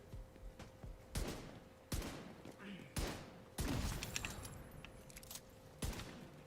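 Sharp bursts of gunfire in a video game crack out in separate volleys about a second apart, with one longer rattling burst in the middle, fairly close over a faint steady hum.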